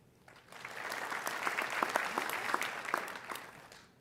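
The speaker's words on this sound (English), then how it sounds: "we can give them all a round of applause" Audience applause at a university fall commencement ceremony, a crowd clapping steadily for about three seconds, swelling up and then tapering off, with no voices over it.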